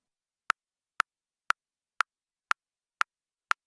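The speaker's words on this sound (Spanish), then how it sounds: "tal vez sea una lapicera contra algo de madera o algo de plástico" Short percussive clicks like a pen tapped on wood or plastic: seven sharp, evenly spaced taps about half a second apart, crisp and isolated against silence.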